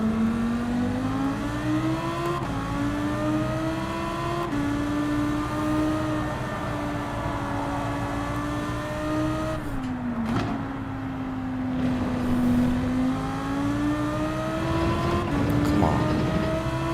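A race car engine in Gran Turismo 7 drones loud and continuous, its pitch rising and dipping through gear changes and braking, with a brief lift near the middle before pulling again.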